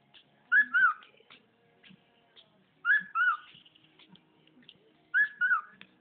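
A pet bird whistles three bright, clear two-part phrases, evenly spaced and close by, with quiet pauses between them and no talking over it.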